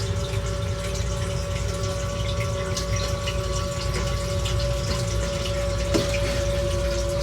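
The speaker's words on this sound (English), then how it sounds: "So now you can hear it where the pump's basically pulling in air now." A basement sump pump runs continuously, draining water with a steady low hum and gurgle that shifts as it begins pulling in air, with no pauses.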